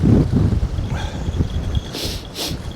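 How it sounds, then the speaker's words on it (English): Choppy harbour water slaps and churns under a strong head-on wind, with gusty rumbling buffets hitting the microphone and a couple of brief hissing bursts near the end. "Water's nice and dirty, it's choppy, head on wind."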